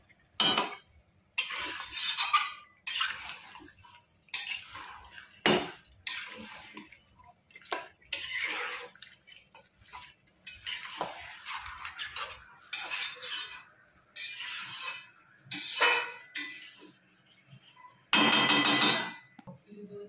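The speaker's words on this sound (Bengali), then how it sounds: "আলুটা দিয়ে আমি ভালো করে 2-3 মিনিট আবার কষিয়ে নেব।" Potatoes and chicken stir-fried in a pan, heard as intermittent bursts of utensil scraping and clinking against the pan, separated by quiet gaps, close and moderately loud.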